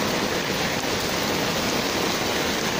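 Heavy rain pours down in a dense, unbroken hiss that stays loud and even throughout, with no voices over it.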